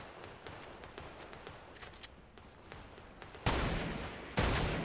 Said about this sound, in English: I got three teams shooting at me and they all want me dead.